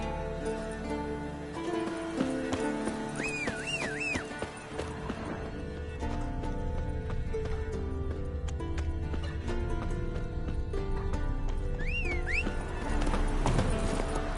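A horse gallops in The Witcher 3, its quick hoofbeats clip-clopping steadily under game music, with a couple of whinnies rising above them.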